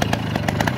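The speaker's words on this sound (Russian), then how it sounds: "Подшипники шумят" A Voskhod motorcycle engine with noisy, worn bearings runs at steady revs, making a harsh, rapid buzzing rattle with regular pulsing knocks, loud and close, with no talk over it.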